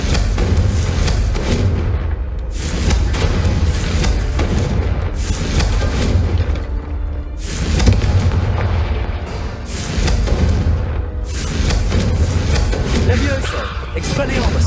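Confringo fire-spell explosions in the Hogwarts Legacy video game, a dense run of loud booming blasts and bursts rolling almost continuously, layered over game music and effects.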